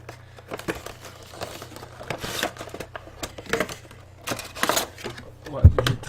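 Someone carefully opens a Funko POP figure box, with scattered crinkling and tearing of cardboard and plastic packaging, close and moderately loud, and someone talking intermittently over it.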